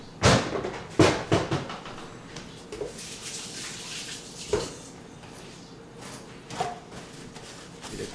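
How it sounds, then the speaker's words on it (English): Running tap water splashing as hands are washed in a kitchen during pulled pork prep, with several sharp knocks and clatters near the start and softer splashes later, close and unaccompanied by talk. "Get a quick wash of the hands there"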